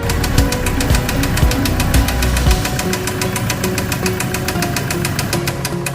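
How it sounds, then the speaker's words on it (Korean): A used truck engine with a piston knocking runs at idle, giving a steady, evenly spaced metallic ticking over a low, uneven rumble, close and alone, with a few deeper thumps early on. "엔진 피스톤 튀는 소리가 있거든요. 피스톤 치는 소리가 있는데"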